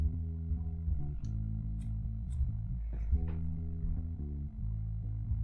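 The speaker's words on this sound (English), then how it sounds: "The bass line sounds like this." Bass line stem isolated by the Logic Pro 11.2 stem splitter, a slightly distorted, low-definition bass playing a steady melodic line of sustained notes, alone and fairly faint, with a few small clicks of residue.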